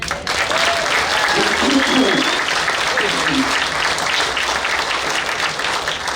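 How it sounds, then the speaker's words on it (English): Wedding guests applaud steadily throughout, a dense crowd clapping that holds at an even level, with some voices faintly mixed in underneath. "They did a fantastic job and all deserve a round of applause."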